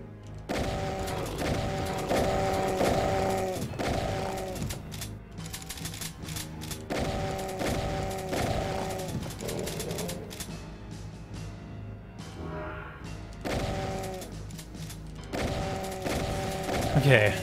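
A combat shotgun fires again and again in the roguelike shooter DoomRL, its loud, close blasts coming in rapid bursts with short pauses between, over a steady game soundtrack.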